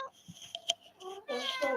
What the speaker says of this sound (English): Meanwhile, the cat is continuing to...